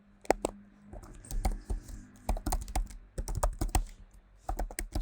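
Typing on a computer keyboard while entering a Docker build command, a fast irregular run of close, crisp key clicks with short pauses, no talking.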